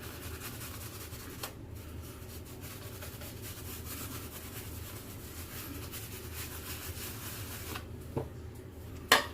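A Persona Monsieur Charles Shavette razor scraping over a shaved head, a steady soft rasping rub with small bumps and a louder knock at the end.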